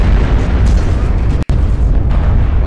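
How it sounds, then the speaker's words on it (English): An airstrike in the mech combat game MechWarrior Online lands as a loud, continuous booming roar of explosions, cut by a brief sharp dropout partway through before the rumble resumes. "Called for an airstrike, that's not good either."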